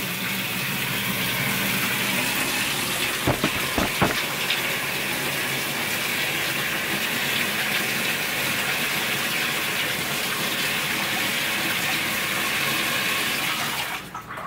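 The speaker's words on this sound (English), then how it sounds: "The reason why I'm using hot water is because hot water just penetrates better than cold water." Water gushes steadily from a tap in a continuous loud hiss, with a couple of brief clinks early on before the flow stops.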